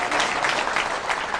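A studio audience on the game show Sqrambled Scuares applauds contestant John Jaskewich, a brief, dense burst of clapping that stays full and loud throughout, with no talking.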